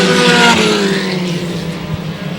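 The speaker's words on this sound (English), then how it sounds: "Now the 28 of Macri is taking the 3rd spot away from the 55 car of Vigneault." Stock race cars roar around a track in close racing, a loud dense engine drone with shifting pitch as cars pass, sustained throughout with no talk.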